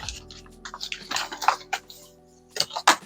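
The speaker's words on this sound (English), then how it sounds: "I'm going to wash my hands." Water from a kitchen sink tap splashing over hands being washed, irregular close splashes and drips in short bursts.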